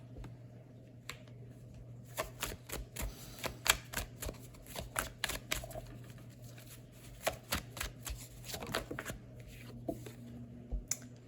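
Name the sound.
tarot cards being shuffled and laid down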